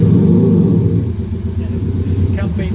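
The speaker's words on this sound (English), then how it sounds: "We'd like to let it introduce itself. This is the MSRT WRC transit van." The one-of-one MJP MS-RT WRC Ford Transit van's engine rumbles loudly up close, a deep throbbing burble with slight swells in revs, steady throughout.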